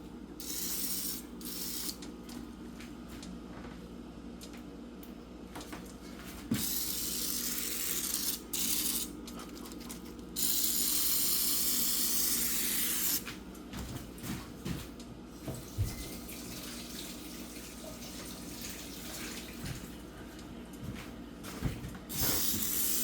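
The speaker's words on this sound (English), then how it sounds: "Spray it well with Baker's Joy." Baker's Joy baking spray hisses onto a waffle iron in several bursts of differing length, close and fairly loud, with short pauses and faint clicks between them.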